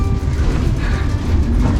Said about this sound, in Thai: รถรางก็ กำลังขึ้นไปเรื่อยๆเลยครับ